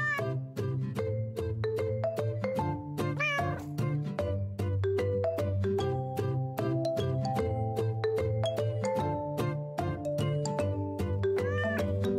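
A kitten gives a long run of repeated, varied meows and drawn-out cries. The calls are close and prominent over a continuous tonal background.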